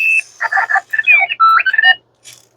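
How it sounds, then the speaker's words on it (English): A Clocky rolling alarm clock rings out with a rapid, warbling electronic beep sequence of chirps and tones, loud and close, alone, ending after about two seconds. "Clocky going off."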